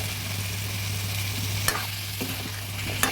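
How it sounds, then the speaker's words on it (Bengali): Vegetable stems are stirred into frying spice masala for a rohu fish curry with potatoes, a soft continuous sizzle broken by a few sharp clatters of the spoon against the pan. "মশলাটা ভালোভাবে ভেজে এবার দিয়ে দেবো"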